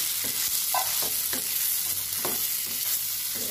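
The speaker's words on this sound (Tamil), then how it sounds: "நம்மளோட அந்த காளான் எடுத்து வச்சிருக்கோம்ல அதை ஆட் பண்றோம்" Mushrooms frying and being stirred into a prawn curry in a pan, with a steady close sizzle and a few scraping stirs throughout.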